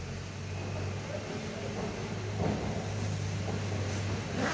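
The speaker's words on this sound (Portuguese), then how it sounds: "Desculpa, gente, é o barulho de um caminhão" Truck rumbling past outside, a steady broadband roar with a strong low drone that swells slightly near the middle, heard from indoors at moderate level with no talk over it.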